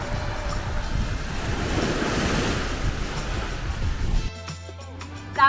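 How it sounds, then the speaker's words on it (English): Ocean waves roll and crash steadily at a beach in Dubai, loud and close with heavy wind rumble on the microphone, before the surf drops away near the end. "welcome to a very wavy ocean"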